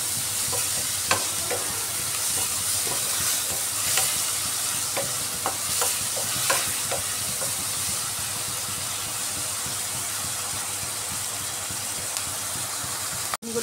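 Onions sizzle and fry in hot oil for egg biryani, stirred with a utensil that clinks and scrapes now and then over a steady, continuous sizzle.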